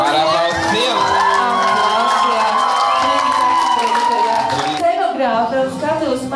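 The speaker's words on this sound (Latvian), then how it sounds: "Aplausiem sagaidīsim pirmo žūrijas dalībni." Audience at a youth adventure camp event cheering and whooping loudly to welcome a jury member, with crowd noise and voices throughout and a brief drop near the end.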